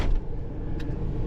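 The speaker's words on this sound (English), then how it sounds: "As y'all see, the green truck sounds real good now." A green truck's engine, recently repaired after running on two cylinders from bad fuel injector plugs, idles with a steady, loud low rumble throughout one short stretch.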